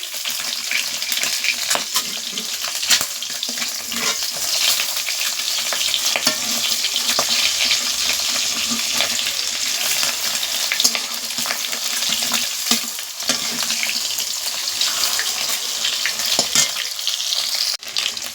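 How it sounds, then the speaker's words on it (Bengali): Eggs flipped over and frying in hot oil in a village kitchen: a steady, close, dense sizzle runs throughout, with scattered clicks and scrapes of a spatula, and no one speaking. "ডিমটা এক পাশে ভাজা হয়ে গেছে এবার আমি উল্টে দিচ্ছি"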